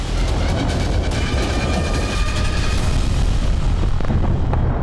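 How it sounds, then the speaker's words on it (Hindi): FAB bomb strikes on Kramatorsk, Ukraine, come through as a heavy, continuous rumbling roar, loud and dense throughout, with no clearly separated individual blasts. "विस्फोट से कई इमारतें ध्वस्त हो गईं।"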